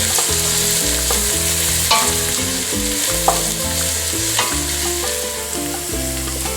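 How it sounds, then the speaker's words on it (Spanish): Onion sautéing in a pot for Peruvian squash locro, a loud, close, steady sizzle with stirring clicks and scrapes throughout, no voices. "Esperemos que soase bien la cebolla."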